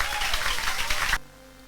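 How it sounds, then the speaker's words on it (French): Church congregation applauding during a Sunday anointing service, a dense, steady wash of clapping and crowd noise for over a second before cutting off abruptly into near silence. "Acclame pour le roi de rois."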